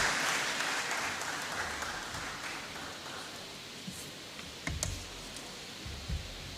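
An audience at a hackathon event applauds a speaker, a dense wash of clapping that is loudest at first and slowly thins, ending in a few scattered claps and knocks.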